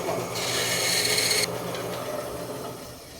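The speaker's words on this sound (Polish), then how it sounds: "Bo do cięcia bursztynu u mnie służy inne narzędzie." A hand tool rasps through a piece of Baltic amber, a harsh, bright scraping that runs for over a second and then stops abruptly, leaving low room noise.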